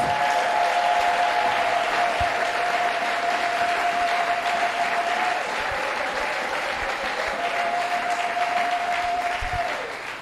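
Steady applause from a church congregation, a dense sustained patter of many hands clapping that fades slightly toward the end, with a faint tonal hum underneath.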